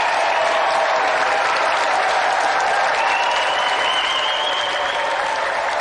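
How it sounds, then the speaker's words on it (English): A television game show studio audience gives the winner a sustained round of applause, a loud, even wash of many hands clapping with a faint whistle-like tone rising over it. "let's have another round of applause for our gallant winner,"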